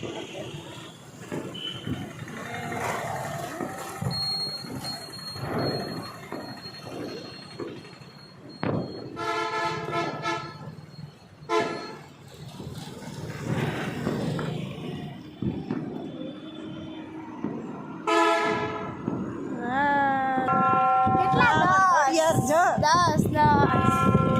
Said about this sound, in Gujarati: આ જોઈ લ્યો અમારે આ રેલવે સ્ટેશન